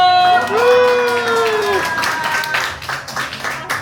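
Guests at a small first-birthday celebration in a Korean restaurant break into applause after a host's voice fades out, with clapping swelling in the background and continuing to the end.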